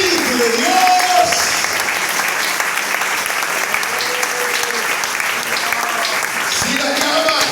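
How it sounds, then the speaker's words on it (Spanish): A church congregation applauds loudly and steadily for several seconds, a dense wash of clapping with scattered voices and shouts mixed in. "Oh, déle ese aplauso al Espíritu de Dios."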